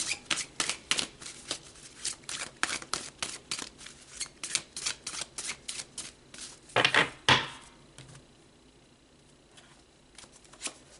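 A tarot deck is shuffled by hand during a card reading, a rapid run of crisp riffling card slaps in quick rhythmic bursts, close and loud, then a couple of heavier flicks before it settles into near quiet.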